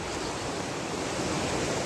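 A river in Rasuwa district, Nepal, rushing steadily as a dense, even roar of flowing water heard close by, with no voices.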